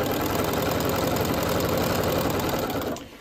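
A sewing machine stitches fabric for a reversible child's apron, giving a fast, steady mechanical whir that runs continuously before stopping abruptly near the end.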